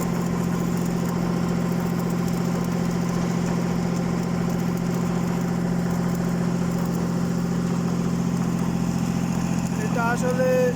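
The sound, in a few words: construction machine running for piling work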